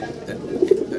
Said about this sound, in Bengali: ভিডিও স্ক্রিনে আমরা এক পেয়ার মুখী কবুতর দেখতে পারতেছি